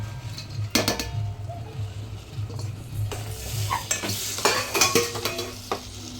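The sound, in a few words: spices being stirred and roasted in a pan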